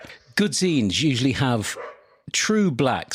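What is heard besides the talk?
neighbour's dog barking in the background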